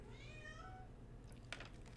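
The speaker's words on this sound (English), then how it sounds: "There's a cat in the bakery just meowing." A cat meows inside a bakery, a drawn-out rising and falling cry in the first second, followed by faint clatter and background noise.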